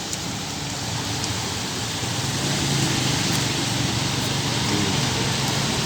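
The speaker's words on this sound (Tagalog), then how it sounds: "Ang ulan, lakas ng ulan dito." Steady rain pours down on a roof, a constant hissing wash that grows slightly louder partway through.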